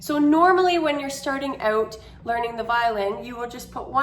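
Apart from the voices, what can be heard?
None of the usual background noises is heard.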